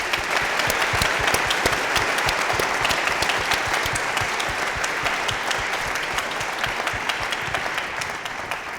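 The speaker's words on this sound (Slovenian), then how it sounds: "ena velik aplavz, prosim" Big live audience at a talk with Joc Pečečnik and Igor Akrapovič gives loud, sustained applause: a thick, even roar of many hands clapping together, heard close and holding steady throughout.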